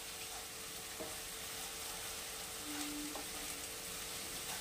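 Ginger garlic paste frying in a pan for a restaurant-style mixed vegetable dish, a faint, steady sizzle with an occasional soft tap of a spoon.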